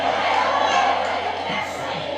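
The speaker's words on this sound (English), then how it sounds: "you could hear the cheers and the applause in the background" A large crowd at a Trump rally cheers and applauds, a steady roar of voices with whoops carrying across the hall, loud and sustained throughout.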